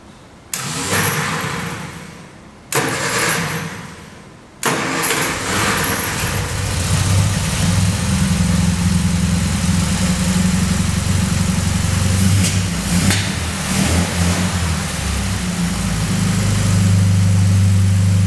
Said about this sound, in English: Finally started, unfortunately with some bad misfire